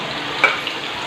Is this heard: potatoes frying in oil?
yes